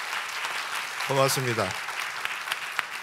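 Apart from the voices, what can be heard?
audience applause at debate event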